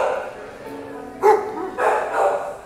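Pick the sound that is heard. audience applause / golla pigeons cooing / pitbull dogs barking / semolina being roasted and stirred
pitbull dogs barking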